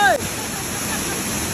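A powerful waterfall tumbling over rocks on a steep, dangerous trail, heard as a loud, steady, close roar of rushing water with a brief higher tone at the very start.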